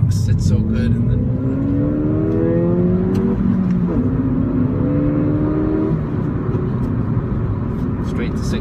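A 2016 Ford Fiesta ST accelerating onto a highway, its engine note rising in pitch through the gears with a shift partway through, loud from inside the cabin, with someone talking over it.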